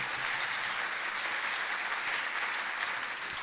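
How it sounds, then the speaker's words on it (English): Audience applause for students at an evening community education forum, a soft, steady patter of many hands heard from a distance, with one sharper tap near the end. "How about a round of applause for the wonderful students who greeted you when you came in this evening?"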